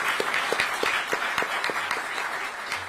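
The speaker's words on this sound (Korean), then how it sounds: "큰 박수 한번 보내주시기 바랍니다" An audience at a Korean political party event applauds for a party leader, a steady rhythmic patter of clapping hands across a room at moderate loudness.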